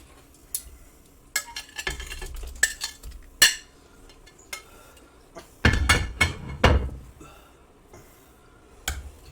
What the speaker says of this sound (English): So, I'm gonna toss in the rest of the shrimp.